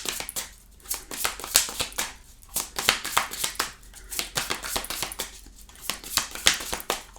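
A deck of tarot cards is shuffled by hand, giving crisp, close riffling and slapping bursts in quick irregular clusters with short pauses between them, no voices.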